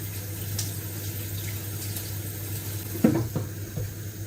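Running tap water splashes over a teaspoon being rinsed at a kitchen sink, a soft steady trickle with a couple of brief metallic clinks near the end.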